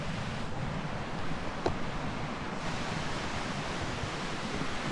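Steady broadband roar of white water rushing at Siffleur Falls, a constant close wash with no breaks and a faint wind edge over it.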